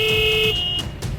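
A scooter horn sounds in sustained steady beeps at the start line of the Mongol Rally. It is loud and close, then cuts off, with some background noise after it.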